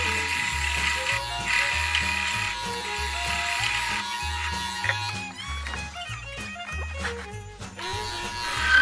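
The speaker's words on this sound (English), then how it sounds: "Once fully rounded, I started gouging the bottom of the acorn." A wood lathe spins steadily with a low rhythmic hum as a gouge cuts into the bottom of a small wooden acorn ornament, bursts of scraping chatter rising toward the end.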